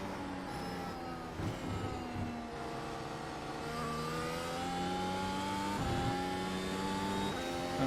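Several race car engines in iRacing, among them a Mercedes W12 Formula One car, whine and rise in pitch through repeated gear shifts as a pack of cars runs side by side, fairly faint.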